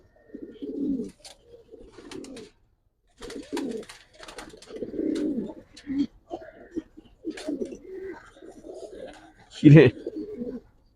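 Giribaz pigeons coo in a loft during a sale, soft low cooing phrases repeating through most of the stretch with a louder burst near the end, mixed with nearby speech.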